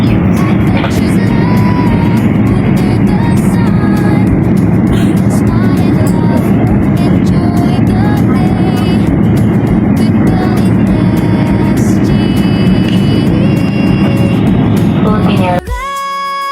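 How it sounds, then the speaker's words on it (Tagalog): Road traffic on the airport departure level, a steady loud wash of vehicle engines and tyre noise with passing cars and buses, ending abruptly near the close. "This is traffic on at the departure level."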